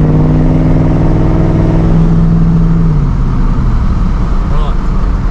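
A car engine revs hard in a workshop test run, a strong steady drone that holds then drops after a few seconds into rougher idle and road noise, with people talking over it.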